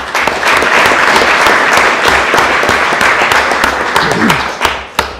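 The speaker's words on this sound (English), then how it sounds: "So one more round of applause for choir." Sustained, loud applause from an audience at a school board meeting honoring the school choir, a dense wash of many hands clapping together steadily for several seconds before tapering off with a few final claps.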